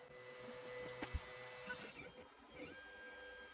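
3D printer laying down a brim around a lithophane print, a faint steady motor whine with soft stepper tones and small mechanical ticks, heard alone at low level.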